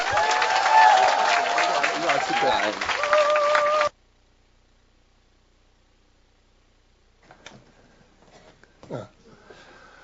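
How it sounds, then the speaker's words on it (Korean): An audience applauds to welcome a speaker onto the stage at a Korean gathering, with tonal music sounding over the clapping for about four seconds before it cuts to near silence broken by a few faint knocks. "큰 박수로 이청우 사장님 모시도록 하겠습니다"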